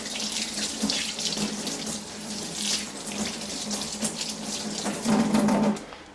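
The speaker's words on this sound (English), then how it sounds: "Then just give it a rinse." Water runs from a tap as sharpening stones of a Spyderco Tri-Angle Sharpmaker are rinsed, a steady close splashing stream that shifts as the stones move under it, with no speech.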